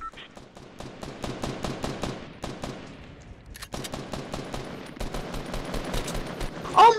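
Rapid bursts of gunfire in the Fortnite video game, loud and close, with strings of quick shots in volleys that pause briefly and then resume.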